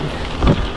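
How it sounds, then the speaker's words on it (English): Rain falls in Belgium near Ieper, a steady close wash of patter with a brief heavier thump midway and no voices. "How can it be raining?"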